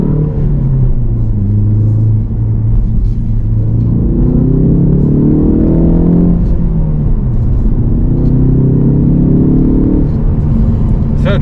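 A 2023 facelift Ford Focus ST Track Pack engine pulls hard in third gear, a steady, loud, low rumble that climbs in pitch as the car accelerates, heard from inside the cabin and continuous throughout.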